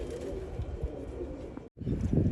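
A large pigeon coos close by in low, rolling murmurs, with a brief drop to silence near the end before the soft cooing picks up again.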